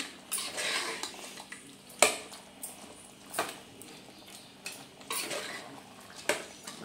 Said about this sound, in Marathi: तर आपल्याला हे असं भाजीला फिरवून घ्यायचं आहे